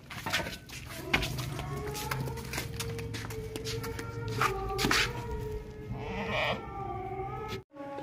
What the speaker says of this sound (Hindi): चौड़ी गर्दन वाला बकरा है